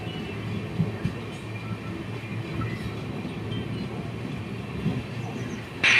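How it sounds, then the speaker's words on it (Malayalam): Ernakulam–Velankanni Express pulling out of Changanassery railway station after a one-minute stop, a steady low rumble of rolling wagons throughout at moderate distance, with faint voices in the background. "ഒരു മിനിറ്റത്തെ സ്റ്റോപ്പിന് ശേഷം ചങ്ങനാശ്ശേരി റെയിൽവേ സ്റ്റേഷനിൽ നിന്ന് പോവുകയാണ്"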